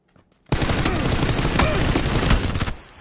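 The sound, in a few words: SMG gunfire in the video game PUBG, Karakin map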